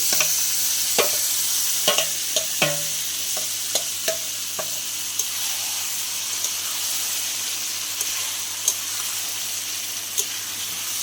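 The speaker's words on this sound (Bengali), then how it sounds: "উনুনে দেখো মাংসটা রান্না করছি" Mutton fries and is stirred in a pot over a clay wood-fired stove, a steady, close sizzling hiss with regular utensil knocks and scrapes, busier early and sparser later.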